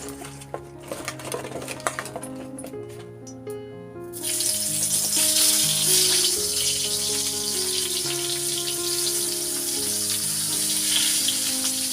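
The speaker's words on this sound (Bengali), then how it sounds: "ভাবলাম পটলটা ভাজা করে ফেলবো" Pointed gourd sizzles loudly in a hot pan, a steady bright hiss that starts abruptly, with utensils clinking and scraping beforehand and music playing throughout.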